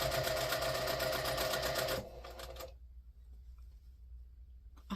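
A sewing machine chain-pieces table runner fabric, running loud and steady for about two seconds before it stops, leaving faint clicks and handling noise.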